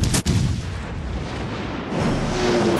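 Main guns of the battleship Nevada fire in World of Warships on PS4, opening with one sharp, loud blast followed by a long rumbling boom and churning battle noise.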